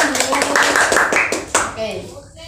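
A classroom of students claps briefly and unevenly for a classmate, sharp close hand claps mixed with talking voices before it trails off.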